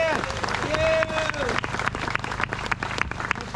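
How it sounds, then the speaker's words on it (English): A protest crowd outside Stormont in Northern Ireland claps for Ken, a loud, dense burst of applause heard outdoors over low rumble, with a tonal whistle-like sound rising briefly near the start. "A round of applause here for Ken,"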